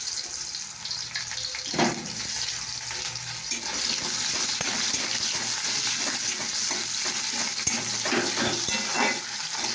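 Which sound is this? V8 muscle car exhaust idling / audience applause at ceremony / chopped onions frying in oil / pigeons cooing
chopped onions frying in oil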